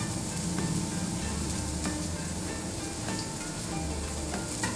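Shallots frying in a pan for miso eggplant make a continuous close sizzle with soft crackles and occasional stirring clicks, even and moderately quiet, with no talk over it.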